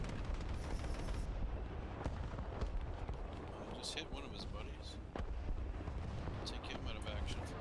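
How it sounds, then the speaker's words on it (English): Incoming artillery fire in a tank video game, heavy rumbling blasts and crackling impacts rolling over a dense battle din, with someone talking over much of it. "artillery coming on us"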